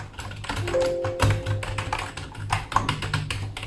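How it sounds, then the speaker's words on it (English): Rapid, uneven tapping of keys on a Razer Cynosa V2 membrane keyboard, muffled clicks at close range with a faint background hum. "how does the keyboard actually sound like?"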